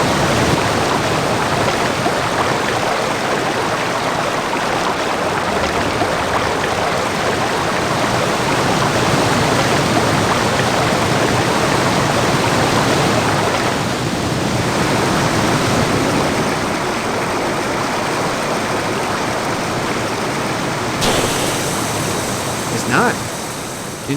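A river rushes steadily toward an underground well in Indiana Jones and the Infernal Machine, a loud, continuous wash of flowing water that never lets up, with a faint shift near the end.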